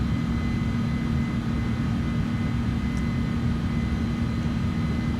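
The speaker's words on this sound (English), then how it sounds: "I'm flying a left-hand pattern from the right-hand runway." Light airplane engine droning steadily in flight in Microsoft Flight Simulator 2024, flying a tight left-hand traffic pattern around an airfield; a constant, even engine hum with no voices.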